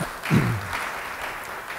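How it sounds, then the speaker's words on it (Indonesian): A church congregation applauds a speaker in a steady wash of many hands clapping at a moderate distance, with a low voice briefly rising at the start. "Sekali lagi beri tepuk tangan yang baik bagi dia"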